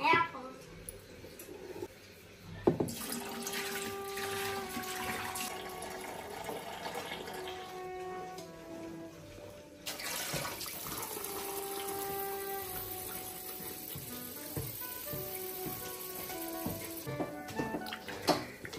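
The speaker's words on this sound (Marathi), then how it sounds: "तर ह्याच्यातलं पाणी काढून घेऊ." Water pours and trickles steadily as it is drained from soaked semolina, stopping and starting, with faint clinks of handling.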